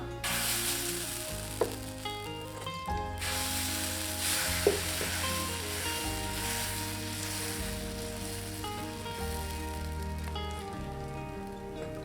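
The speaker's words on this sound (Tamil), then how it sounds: "இப்போ தோசை மாவு ஊற்றிக்கலாம்" Sprouted green gram dosa batter sizzles steadily on a hot, lightly oiled pan, a continuous close frying hiss with no voices.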